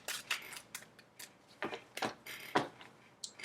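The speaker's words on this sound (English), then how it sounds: "Last shuffle." A tarot deck is shuffled by hand in a series of sharp, irregular snapping and riffling bursts, close and fairly loud, with no voices.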